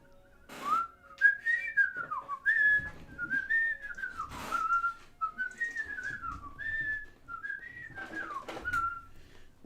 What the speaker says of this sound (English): I want to whistle.